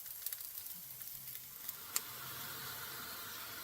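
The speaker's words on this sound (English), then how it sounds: "I just put a cup of water in there, and that's going to loosen everything up." Water hisses and sizzles in a hot cast iron pan just used for ribeye steak, a steady crackling fizz with a few sharp pops, close up with no talking.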